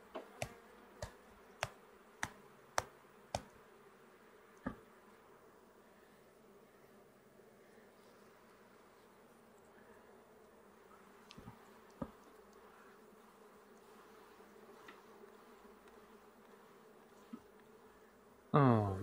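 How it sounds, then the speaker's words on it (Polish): Honeybees buzzing faintly and steadily during a hive inspection, with a series of sharp clicks and taps near the start and a louder knock at the very end. "Tu są jeszcze dwa bzyczki."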